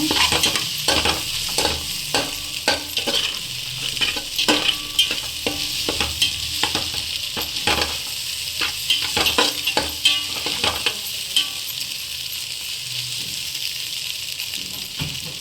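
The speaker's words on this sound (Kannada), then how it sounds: "ಚೆನ್ನಾಗಿ ಫ್ರೈ ಆಗಬೇಕು." Egg fried rice frying and being stirred in a pan: a continuous bright sizzle with rapid, repeated spatula scrapes and clicks throughout, close and fairly loud, with no talking.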